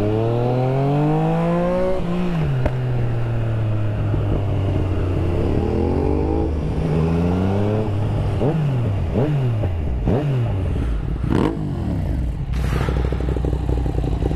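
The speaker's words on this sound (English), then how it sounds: "Ducati 821 Monster. 821 Monster." A Ducati 821 Monster motorcycle engine revs up and down repeatedly, with loud, close rising and falling pitch sweeps over a steady idle rumble and a few sharp blips near the end.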